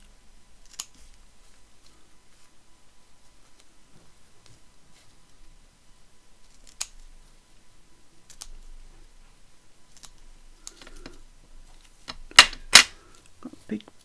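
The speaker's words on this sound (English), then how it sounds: "So I'm just going to roughly cut around the outside." Scissors roughly cut around paper ephemera in a quiet room, giving sparse, faint snips spaced several seconds apart, then a louder cluster of sharp cuts near the end.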